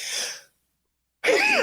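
One person sneezes twice, each a sharp close burst with a short breathy tail, separated by about a second of silence.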